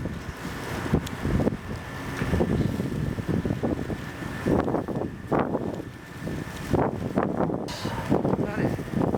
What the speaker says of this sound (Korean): 옥상이라 그런지 바람이 많이 분다.